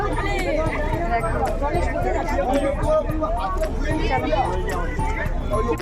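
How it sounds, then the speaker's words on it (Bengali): Busy fairground crowd hubbub, a dense continuous wash of many overlapping voices and chatter with scattered clatters and footsteps, steady and close throughout. "দেখো আমাদের মেলা মাঠে কত ভিড় দেখেছো"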